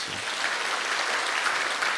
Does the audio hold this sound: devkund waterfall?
no